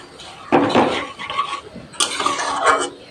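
A spoon scrapes and clinks against a pan while beetroot halwa is mixed with sugar, two close bursts of stirring with metallic rattles, no voices.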